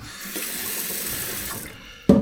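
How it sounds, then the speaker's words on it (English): Tap water running into a container of rice for cooking Malaysian curry, a steady hissing stream for about two seconds before a brief louder splash as the flow ends, close and without talk. "wait till the rice comes up, the water comes up to that spot"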